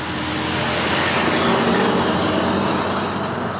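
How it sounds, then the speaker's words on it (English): Noisy trucks pass on a road heard from an e-bike ride, giving a loud, continuous engine rumble and roadway roar that holds steady and close throughout. "These trucks are so noisy."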